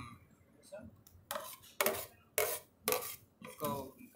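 Spoon scraping and clinking against a metal pot while kaju matar makhana is served out, a few sharp ringing clatters in irregular bursts, close and fairly quiet.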